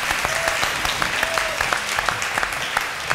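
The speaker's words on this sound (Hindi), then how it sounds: "वाह वाह तालियां जरा खुल के होनी चाहिए" Studio audience at a Ramadan iftar television show breaks into sustained applause, a dense crackle of clapping with sharper individual claps scattered throughout, steady and fairly loud for the whole stretch.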